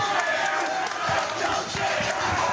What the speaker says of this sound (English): You hear that crowd, ladies and gentlemen? That's for a jiu-jitsu match.